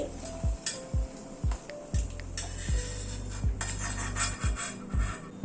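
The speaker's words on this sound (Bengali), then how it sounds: "3টে শুকনো লঙ্কা দিয়ে দিলাম, শুকনো লঙ্কাটাও ভেজে তুলে নিচ্ছি।" Dried red chillies, three of them, frying in hot oil in a pan, with a steady low sizzle under repeated soft clinks and stirring knocks of a utensil against the pan, close and fairly quiet.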